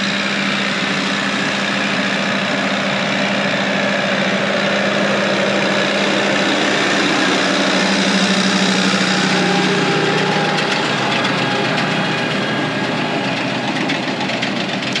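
A tractor powers a round baler through a hay field, its engine droning steadily and loud with a continuous mechanical whir and rattle throughout, no voices.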